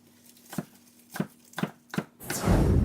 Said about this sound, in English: I'm just going to give them a rough chop so that I don't have long strands of spinach